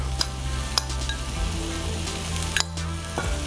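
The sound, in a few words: basmati rice sizzling in a hot saute pan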